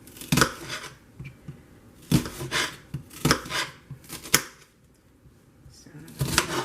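A knife chops an onion on a cutting board in several bursts of quick, crisp strokes separated by pauses, close and fairly loud.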